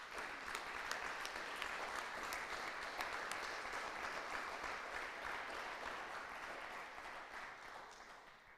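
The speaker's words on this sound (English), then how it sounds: "So I think they desire a big hand of applause." Sustained applause from a conference audience at a higher-education closing session, a steady even wash of clapping that holds for several seconds and eases slightly toward the end, with no voices over it.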